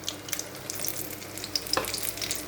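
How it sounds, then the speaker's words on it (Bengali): Battered ash gourd leaf fritters stuffed with spiced prawn paste frying in hot oil, a steady close sizzle with scattered pops and crackles throughout, no voices. "একটু লাল করে ভেজে উঠাবো আমি"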